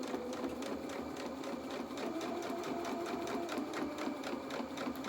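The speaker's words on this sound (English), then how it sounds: "make sure that all the fabric in front of your needle is flat as you're sewing" Sewing machine stitching a straight seam on pyjama-bottom fabric, a steady rapid mechanical whir with even needle ticks running continuously at close range, no voices.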